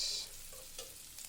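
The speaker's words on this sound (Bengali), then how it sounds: "এগুলো ভালোভাবে হয়ে যাক ভাজা হয়ে যাক" Onion, garlic and green chillies fry in hot oil, giving a faint, steady sizzle with a few soft stirring scrapes, brief and quiet with no voices.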